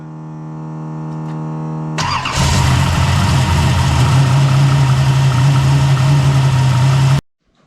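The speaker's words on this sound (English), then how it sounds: "fired up the car, got it running, got it up to temp" A drift car engine cranks, catches and revs up, then settles into a loud, steady idle for several seconds before cutting off abruptly.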